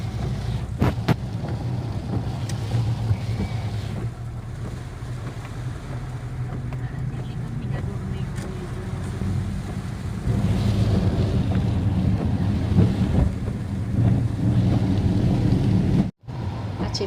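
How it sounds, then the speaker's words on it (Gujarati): Heavy rain falling over green farm fields, a continuous dense low rumble mixed with wind buffeting that swells louder midway and carries on without speech. "રસ્તામાં પણ ખૂબ ફૂલ વરસાદ ચાલુ થઈ ગયો છે"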